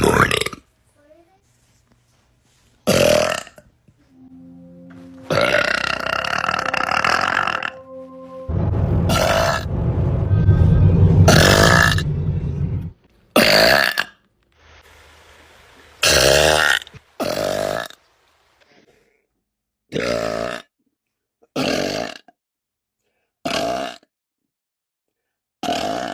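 A woman lets out a series of loud, drawn-out burps, some long and rumbling, others short and abrupt, spaced by silences with occasional brief talk.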